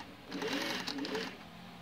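A Singer Touch and Sew 600E sewing machine runs a bobbin-winding burst driven by the foot pedal, a steady mechanical whir of about a second, up close, with brief talk around it.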